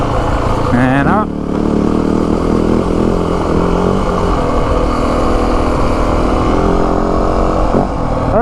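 A 2025 Yamaha WR 450F dirt bike climbs uphill on a trail, its engine droning steadily close by with a brief rev near the start, a voice speaking over it.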